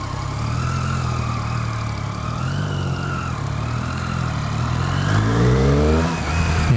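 A 2013 Triumph Street Triple R motorcycle engine running steadily, then revving up into the mid-range with a rising bark near the end, loud and close, no talk.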